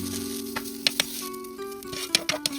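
Coriander and mint leaves frying in oil, a bright close sizzle with several sharp crackling pops over a steady hiss, no voices.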